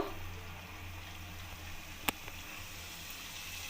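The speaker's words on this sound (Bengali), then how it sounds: "আমি কুচু নিমকিগুলো অল্প অল্প দিয়ে ভেজে নেব।" Bits of kucho nimki, a small crisp fried Bengali snack, frying in hot oil on a gas stove give a steady, soft bubbling hiss with one brief sharp pop midway.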